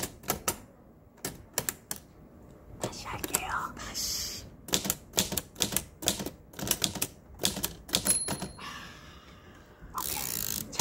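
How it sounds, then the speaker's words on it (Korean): A typewriter clacks in an ASMR-style demonstration, bursts of sharp key strikes with ratcheting carriage sounds and a bell-like ding, alongside quiet spoken words. "타자기 ASMR을 가보도록 하겠습니다."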